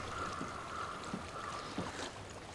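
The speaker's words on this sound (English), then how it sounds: "I hear water." Faint flowing water and gentle lapping sound through a quiet, breezy setting in Hellblade: Senua's Sacrifice, with a soft steady wash and no voices.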